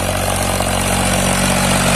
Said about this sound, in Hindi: हाई के दूसरे गियर में power track 439 plus diesel saver की परफॉर्मेंस देखिए